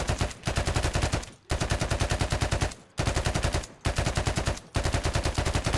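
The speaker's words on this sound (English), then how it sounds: "Suppressing fire!" Sustained bursts of automatic gunfire in the military shooter ArmA 3, four long rapid volleys separated by brief gaps, loud and close with no talk over them.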